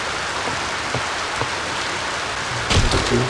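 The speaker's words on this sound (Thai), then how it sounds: "แบบใหม่มีฝนตกด้วยว่ะ" Steady rain hisses throughout in the video game Survival On Raft, with a low rumble of thunder swelling near the end; no voices.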